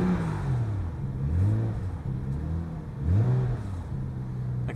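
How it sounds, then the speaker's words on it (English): A BMW M135i engine heard from inside the car, a mid-pitched hum rising and falling through revs with gear changes, a light fluttering turbo or wastegate sound in the mix, steady and fairly close. "I can hear the turbo fluttering."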